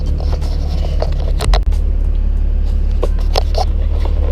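A car driven off on a short test drive after new gauges were installed, a loud continuous low engine and road rumble with scattered clicks and scraping knocks inside the cabin.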